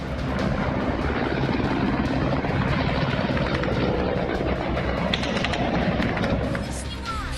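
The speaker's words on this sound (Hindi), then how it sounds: "रूस के हेलीकॉप्टर्स की गड़गड़ाहट यूक्रेन के आसमान में साफ सुनाई दे रही है" A dense, steady engine rumble with heavy low-frequency drone throughout, loud and continuous, as Russian military helicopters pass overhead in Ukraine.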